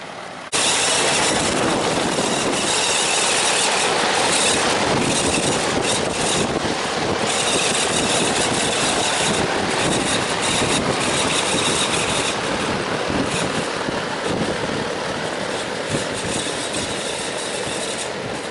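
A 40-inch fan salvaged from a scrapyard blasts air outdoors over grass and sand, a loud, steady, broadband roar of rushing air that runs unbroken from start to finish, close to the microphone.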